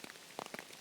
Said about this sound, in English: So if the rain stops, and I don't think it will